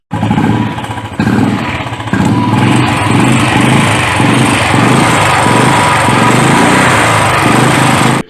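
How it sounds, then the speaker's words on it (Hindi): A loud Royal Enfield motorcycle engine runs close by with a steady, throbbing putter, its pitch and pulse holding fairly even throughout, with engine noise that grows louder on acceleration. "engine sound increase after acceleration"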